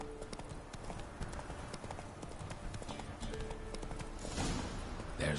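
Horse galloping in The Witcher 3 video game, a brisk, steady run of hoof clip-clops at moderate distance, with a brief burst of louder game noise near the end.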